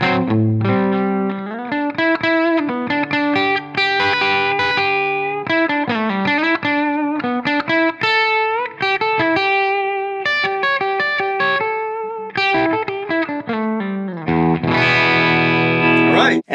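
A Les Paul electric guitar runs through distortion and chorus effects, playing a continuous lead line of sustained and bent notes, then a final strummed chord rings out near the end.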